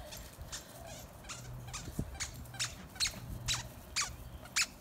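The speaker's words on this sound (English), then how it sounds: "He loves his squeaky toys." A dog's squeaky toy squeezed over and over, a string of sharp, high squeaks in an uneven rhythm, fairly close and clear over low background noise.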